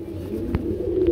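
A pigeon coos softly and close at a pigeon market, a brief low throaty call over a faint background with a small thump partway through.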